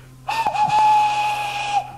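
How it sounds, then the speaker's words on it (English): A single sustained steam whistle blows for about a second and a half, clear and fairly close, with a faint low hum underneath. "Edward whistled after him."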